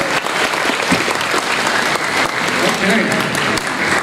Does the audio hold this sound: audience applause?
yes